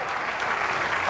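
A crowd at a PBA bowling event in Chicago claps and cheers in a dense, steady burst of applause that fills the whole moment, loud and close, without clear talk over it.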